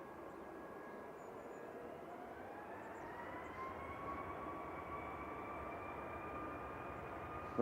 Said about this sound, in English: Ryanair is rolling